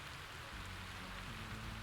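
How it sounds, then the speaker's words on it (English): Steady rain in the video game Satisfactory hisses evenly as a continuous wash of noise with no breaks, heard alone and fairly quiet. "Yeah, it's just raining."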